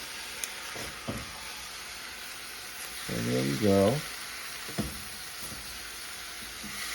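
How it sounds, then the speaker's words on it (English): Steady hissing sizzle of wine added to a hot pan of stir-fry vegetables, with someone briefly speaking over it and a few clinks of utensils. "just a couple tablespoons of wine here, and it should sizzle up"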